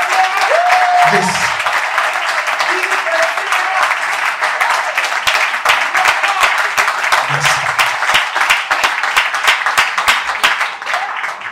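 Sustained applause from a festival crowd in a screening hall at the Pointe-Noire short film festival, many hands clapping in a thick, even roar, with occasional short voices breaking through.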